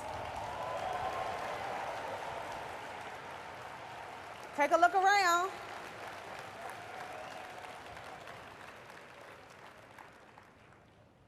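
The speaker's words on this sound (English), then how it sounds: "Let's give them a round of applause." Crowd applause in a room during a business presentation, steady clapping that slowly fades away, broken midway by a brief loud interjection and a few spoken words.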